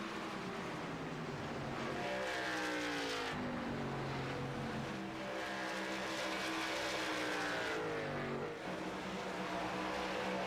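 Race cars roar around Indianapolis in a racing video game, several engines sustained and loud with rising and falling pitch as they pass and shift, layered continuously throughout.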